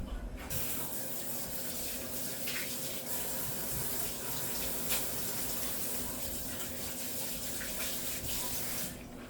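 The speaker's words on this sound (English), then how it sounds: "So I'm gonna wash my hands." A kitchen tap runs steadily as flour is washed off hands, a constant close hiss and splash of water into a sink with no talking over it.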